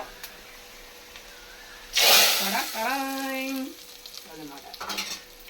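Hot tempering poured into cooked dal sets off a sudden loud sizzle that fades into steady frying, with a voice sounding over it.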